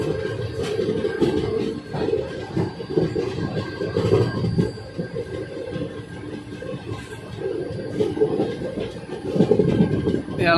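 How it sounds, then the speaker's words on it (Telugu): A train rolls past on the opposite track with a steady rumble and rhythmic clatter of wagons, near and fairly loud throughout, with no talking. "ఆపోజిట్లో అయితే ట్రైన్ అయితే వెళ్ళింది"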